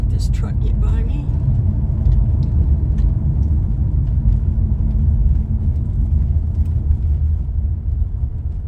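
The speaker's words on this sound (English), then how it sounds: "Let this truck get by me." Inside a car on a country road near a lake, a truck passes by amid steady low engine and road rumble, with someone speaking over the noise.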